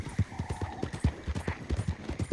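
Horse hooves clip-clop in a steady, brisk rhythm in a video game, close and continuous over a faint background hum.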